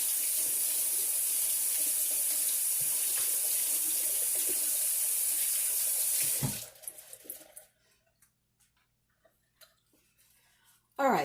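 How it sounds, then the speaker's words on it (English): Tap water runs steadily into a kitchen sink while hands are washed, a loud constant rush for about six seconds before the flow cuts off, followed by quiet handling sounds and a brief splash at the end. "let me wash my hands, guys. Really quickly over here at the sink"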